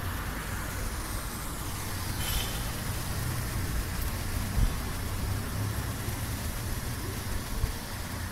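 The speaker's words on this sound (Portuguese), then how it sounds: "Mas tem barulho de chuva." Light drizzle falls in São Vicente, a soft, even hiss that stays faint and steady throughout, with a passing vehicle murmuring in the background.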